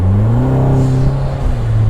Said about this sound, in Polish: czuć, że silnik zaczyna się dławić. Trzeba mocniej drać gazu